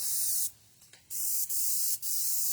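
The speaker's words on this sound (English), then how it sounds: "I'm starting to have problems with my airbrush" Airbrush spraying oil paint, a loud steady close hiss in three long bursts separated by brief stops, including one sputtering interruption as the airbrush acts up.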